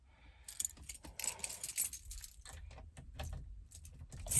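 A bunch of keys for a neglected old Mopar car jangles and clinks in irregular, close-up bursts of light metallic rattling, with no talking.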